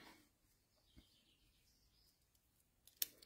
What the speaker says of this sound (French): J'entends les petits oiseaux qui chantent derrière moi.